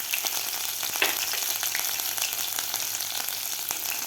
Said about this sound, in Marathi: त्यानंतर घालायचे आपल्याला जिरे आणि मोहरी व्यवस्थित आपल्याला फ्राय करून घ्यायची आहे.